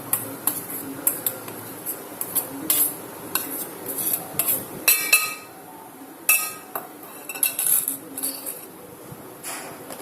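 A spoon clinks and scrapes in a metal pan as a raw banana Kerala-style curry is stirred, irregular sharp metallic taps close by, moderately quiet with no talking.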